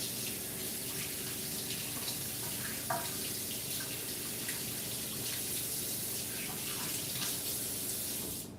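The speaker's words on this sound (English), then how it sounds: "I do have to wash my hands a little bit." Hands being washed under a running kitchen tap, a steady close stream of water splashing into the sink throughout, with faint sputters and no talking.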